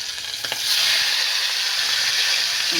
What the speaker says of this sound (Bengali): এবার একটুখানি হালকা ভেজে নেব, একদম হালকা ভাজবো।